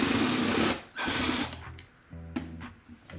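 A power drill runs in loud bursts, driving screws into wood for a homemade overhead camera rig, with two long whirring runs followed by shorter, lower-pitched spurts and pauses between.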